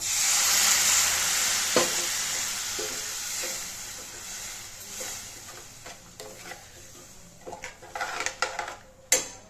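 Tomato gravy for kurma sizzles steadily in a pan while a utensil stirs and scrapes, with occasional clinks against the metal as the cooking continues.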